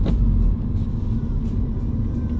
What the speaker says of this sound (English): I'm changing the gear at around 1500 RPM.